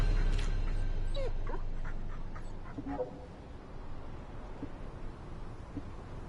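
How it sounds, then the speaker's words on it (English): A dog moving about a room, giving a few soft whimpers and high yips over quiet panting, close and fairly faint with no talking. "Dog, get out of the picture."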